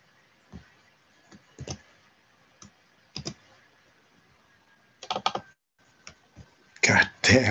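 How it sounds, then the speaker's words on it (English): Computer mouse clicks come in short sharp bursts, some paired as double-clicks, with quiet gaps between them and a louder cluster at the end. Typing on a nearby keyboard mixes in. "let me double click"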